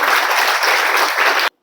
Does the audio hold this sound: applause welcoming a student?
yes